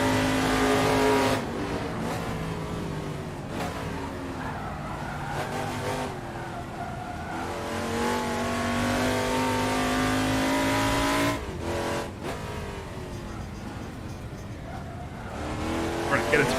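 Touring car engines in the racing video game Assetto Corsa drone and rev continuously, with tire squeal and skids, while someone talks throughout the race.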